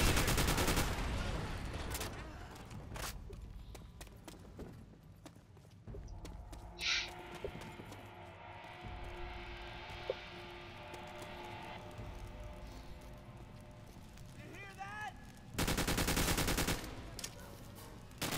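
Scattered gunshots and machine-gun bursts sound in a World at War campaign battle, fairly quiet overall with a few sharp louder blasts and a heavy burst near the end, under talk and ambient game noise.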